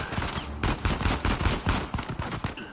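Assault rifle gunfire in a shooter game: dense, loud, rapid bursts of shots in a near-continuous fusillade with brief gaps, close and harsh, with no talk.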